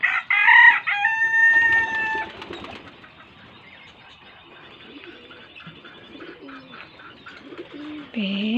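Pigeons cooing in a loft, soft low coos repeating through the middle, after a loud rooster crow at the start and a sharp call at the end.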